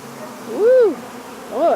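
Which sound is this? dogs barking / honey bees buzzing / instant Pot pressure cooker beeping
honey bees buzzing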